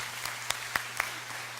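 A church congregation applauds after a prayer, a soft, sparse patter of hands with a few distinct sharp claps standing out near the middle over a steady low hum.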